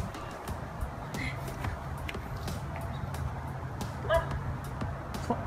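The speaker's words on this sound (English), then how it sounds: "so we're trying to capture this dog" A dog on an outdoor film set gives scattered short yips and whimpering cries, fairly close but partly buried under background noise and faint voices, with one sharper bark-like burst near the end.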